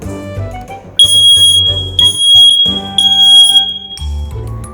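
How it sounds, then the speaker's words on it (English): A smoke alarm blares in loud, piercing electronic beeps in a repeating pulsed pattern over some low background sound, close and harsh. "Sparky, would you like to hear what a smoke alarm sounds like?"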